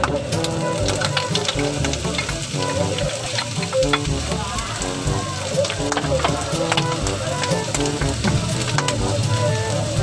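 Onions sizzle loudly in hot oil for chicken feet sisig, a dense close frying hiss with rapid spattering crackles and stirring scrapes running steadily throughout.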